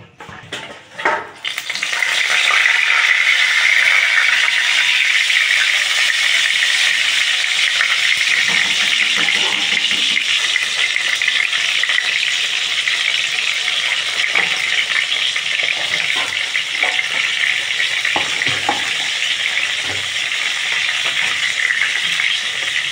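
Eggplant pieces coated in salt, turmeric and sugar fry in hot oil, giving a loud, dense, continuous sizzle that stays steady from start to finish with no voices.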